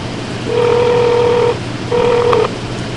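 Two clear steady telephone tones, the first about a second long and the second shorter after a brief gap, sounding over a quiet line while a call to a racing driver is placed.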